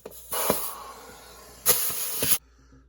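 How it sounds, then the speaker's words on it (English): A small air compressor pushing air through an air chuck into a 1981 Honda Express SR NX50 moped tire, two close bursts of rushing hiss, the first about a second long, the second slightly louder, then quiet. "I got a little compressor with a air chuck, but it does fill it fast"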